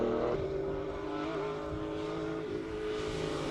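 A classic Porsche runs a hillclimb track at Cape Town, its engine a steady, moderately distant drone that holds a sustained note across the stretch without talk.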